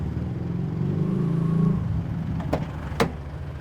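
A car engine turns over and runs after a jump-start from a second vehicle's battery, a steady close mechanical drone with a couple of sharp clicks near the end.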